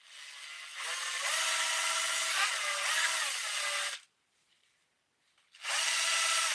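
A chainsaw file spins in a cordless screwdriver, giving a loud, high grinding whine that runs for several seconds, stops briefly, then starts again.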